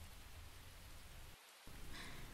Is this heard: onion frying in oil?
no